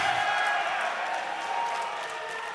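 A crowd at a Team Fortress 2 esports grand final at an Insomnia gaming event, cheering and clapping in a steady, distant-sounding wash that fades slightly toward the end.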